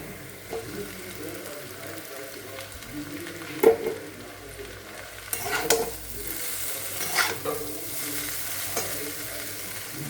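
Boiled noodles tossed with mustard oil in a frying pan give a soft sizzle broken by several stirring clatters and scrapes, moderately close, with no talking.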